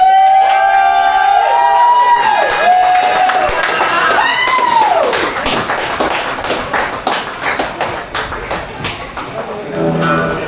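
An audience on a comedy talk show cheers, whoops and claps over a lively host voice and band-like tones at first, then the crowd noise settles into steady close applause with scattered shouts.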